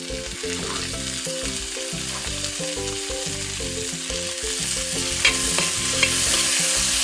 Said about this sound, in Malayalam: ഇനിയിപ്പം നമ്മൾ ഇതിലേക്ക് നമ്മൾ അരിഞ്ഞ് വെച്ചേക്കുന്ന ആ തക്കാളിയും കൂടി ഇടാം